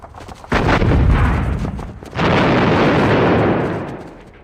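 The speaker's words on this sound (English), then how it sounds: "I'm a little bit worried that the remaining howitzers will open up." Two heavy howitzer shell explosions in the wargame Squad Battles Eagles Strike, loud and close, each a deep booming blast that rolls on for over a second before fading, the second landing about a second and a half after the first.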